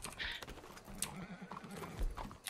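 Hooves clip-clop in a Red Dead game, with a horse whinnying amid the rapid hoofbeats and brief game sounds, while a voice talks faintly in the background.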